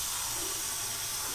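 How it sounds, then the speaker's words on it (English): Tap water runs steadily into a container of plant food, a continuous close hiss and splash lasting a moment with no other sounds. "then run the water on top of it so that it has a chance to mix up"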